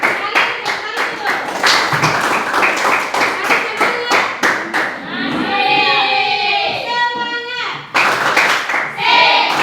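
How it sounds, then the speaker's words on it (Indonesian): Junior high students in a Biak Barat classroom clap again in loud, quick bursts, with children's voices rising in the middle before a last round of claps. "Sekali, tepuk tangan dulu"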